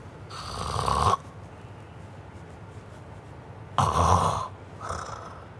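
Two loud snores separated by a long quiet gap, then a softer third one; deep, rasping breaths close by with no talking.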